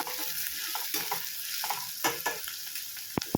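Onions sauté in a pan for garlic tamarind curry. A constant frying sizzle runs under irregular spatula scrapes and stirring knocks, with a few sharp clinks near the end.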